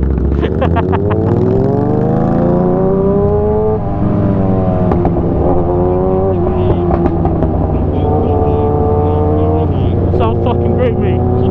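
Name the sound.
cruiser motorcycle engine revving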